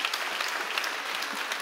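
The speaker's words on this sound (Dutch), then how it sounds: "Ja, applaus." A lecture audience claps continuously in a brief, even burst of applause, moderately distant, with no talking over it.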